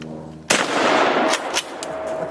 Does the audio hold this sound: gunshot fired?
yes